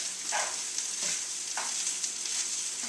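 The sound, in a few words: egg and rice stirred and frying in a pan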